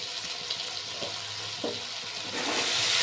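Ginger paste and spice paste fry in a pan while being stirred for a rohu fish curry, a soft steady sizzle with light scraping strokes that grows slightly louder toward the end.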